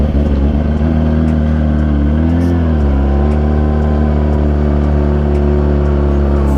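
A Yamaha R6 motorcycle engine pulls uphill in third gear, a loud, close, sustained drone whose pitch dips briefly and then holds steady.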